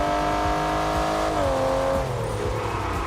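A loud car engine revs and shifts in the racing game Test Drive Unlimited Solar Crown, rising then dropping in pitch through gear changes, with a steady roaring drone throughout.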